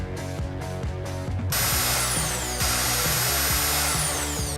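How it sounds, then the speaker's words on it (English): A power drill drives large screws into wood while building a floating house platform, its steady whirring motor running loud and close with a brief pause midway before it resumes. "Then we attach both structures to the floating platform with large"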